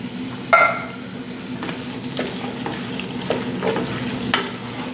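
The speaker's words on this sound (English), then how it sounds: "I'm gonna go ahead and add a can of diced fire roasted tomatoes." Diced fire-roasted tomatoes are stirred into a sizzling pot of seafood gumbo. The frying hiss is close and steady, with a loud utensil scrape near the start and several softer scrapes and clinks after it, and nobody speaks.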